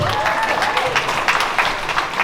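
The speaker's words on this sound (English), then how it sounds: "Let's give him another round of applause." Wedding reception guests applaud the groom in a steady, dense round of clapping that fills the room throughout, with crowd murmur mixed in.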